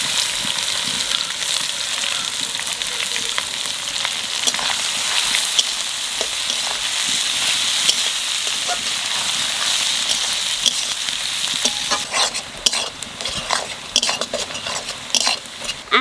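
Onions frying with cumin, bay leaf, cloves, cinnamon and cardamom in a pan for a duck curry, a loud continuous sizzle with frequent scraping and clinking of a spoon stirring, without speech.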